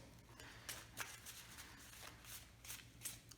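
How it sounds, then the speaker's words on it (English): A deck of board game cards is shuffled by hand, with repeated quick riffling flutters in a rhythmic series, close and fairly quiet, with no voices. "Shuffle our cards and reset the deck and begin a new year."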